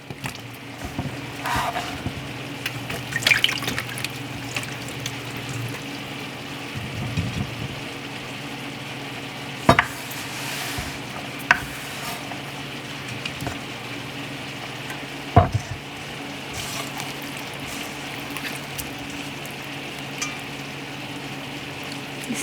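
Leeks rinsed in a bowl of deep water in a home kitchen, with soft continuous sloshing and swishing, several sharper splashes and clunks standing out, close and moderately loud with no talk.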